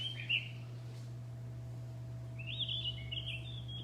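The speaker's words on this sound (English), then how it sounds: "along the way, we had the blue rock thrush." A blue rock thrush sings short, clear whistled phrases, once near the start and again toward the end, over a steady low electrical hum.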